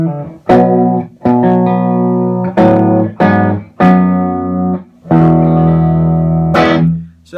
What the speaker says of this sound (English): So when you have it cranked, it sounds like this.